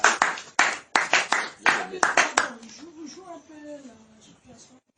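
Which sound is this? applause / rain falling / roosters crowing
applause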